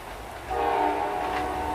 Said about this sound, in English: it's a bit of a longer train, that 91.